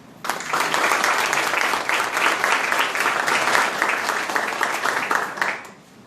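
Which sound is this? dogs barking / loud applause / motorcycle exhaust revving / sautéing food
loud applause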